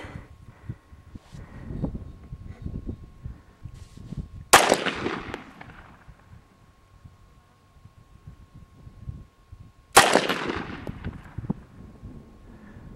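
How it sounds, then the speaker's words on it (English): Glock 17 pistol fired at a shooting range, two sharp, loud close shots about five seconds apart, each with a short decaying echo, over low background rumble and handling noise. "shooting a Glock 17"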